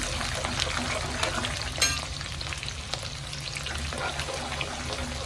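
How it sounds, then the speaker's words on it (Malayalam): Long-sliced garlic frying in oil for an amla pickle, a steady dense sizzle that carries on throughout, close up, with a brief clatter of stirring near the middle and no speech. "ഇനി വെളുത്തുള്ളി ഇട്ട് കൊടുക്കാം. വെളുത്തുള്ളി നീളത്തിന് അരിഞ്ഞ് വെച്ചതാണ്."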